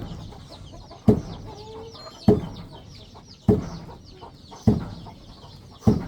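Chickens cluck in a rural village in Bualapha district, Khammouane, Laos. Low, steady clucking repeats about every second, with twittering birds above it and a quiet outdoor background.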